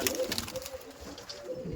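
Pigeon cooing at a pigeon seller's in Dankuni, among Punjab-bred pigeons: soft, low, repeated coos close by with no talk, over a faint murmur of background noise.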